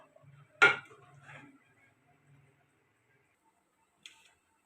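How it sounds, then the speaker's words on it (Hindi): A spoon scrapes and clinks once against a dish while potato and cauliflower curry is served, leaving faint scraping and a light tap afterward in a quiet kitchen. "चम्मच की मदद से हम डिश आउट करके दिखाते हैं"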